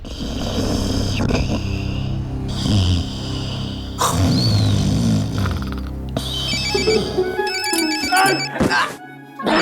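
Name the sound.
phone ringing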